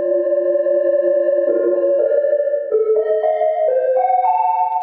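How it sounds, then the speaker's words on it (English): A sustained synth tone stepping upward in pitch, its reverb tail swelling and thinning as the effect mix is adjusted. "I'm using knob 5 to change the mix of reverb with the original sound"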